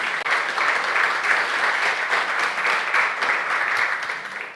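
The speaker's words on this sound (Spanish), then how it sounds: "¿Cuánto le dan un fuerte aplauso al Señor?" A church congregation bursts into loud, continuous applause during a sermon, thick and even throughout with no voices rising above it.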